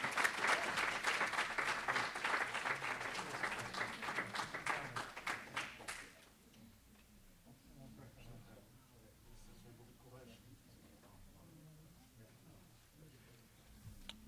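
Audience applause at a conference in honour of a speaker, loud and dense for about six seconds, then cutting off abruptly to faint room murmur with a voice speaking quietly.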